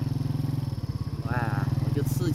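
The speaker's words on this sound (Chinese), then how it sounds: "油门一脚" A motorcycle engine chugs steadily at close range, then a single twist of the throttle gives a brief rising rev before it settles back to idle, with a voice over it.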